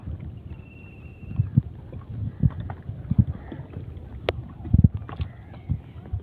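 A hand-rowed wooden boat crosses open water in a wetland haor. Irregular paddle knocks and splashes come in loose rhythm over a low wind rumble, close and moderately loud.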